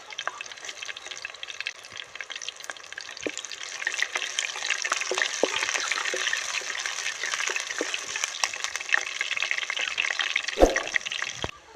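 Cumin and fenugreek seeds fry in oil in a pan for an Andhra-style fish pickle, a steady, fairly loud hiss and crackle that swells after a few seconds and keeps going, with a few scattered spoon clicks.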